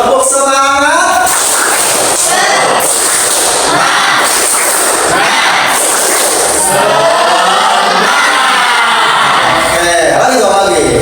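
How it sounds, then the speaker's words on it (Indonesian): An audience at an Indonesian classroom-style ice-breaking session does the rhythmic 'tepuk semangat' clap, loud bursts of crowd clapping and shouting in patterned groups, filling the room close by, with voices calling out between the beats. "Coba kita berikan tepuk semangat."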